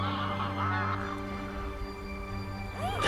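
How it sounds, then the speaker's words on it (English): Geese, ducks and gulls call on the Drava River in Croatia at sunset, a steady chorus of honking with harmonic tones running throughout and a rising call near the end. "Geese, ducks, and gulls dominate."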